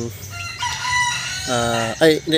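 A three-month-old Golden Boy cross Raptor sweater gamefowl rooster crows loudly and close, a short, strained cock-a-doodle-doo ending in a few clucks.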